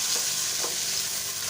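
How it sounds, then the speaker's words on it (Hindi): Onions sauté in a pan for green-chili chicken karahi, giving a steady, close sizzle with soft stirring scrapes throughout and no talk. "हमने ब्राउन नहीं करना, इसको सौते कर लेना है।"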